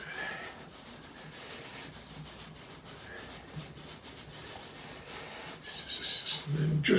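Steady, close rubbing as fingers mould the raw pastry edge of a homemade one-pound pork pie, a soft continuous friction with a faint voice briefly at the end.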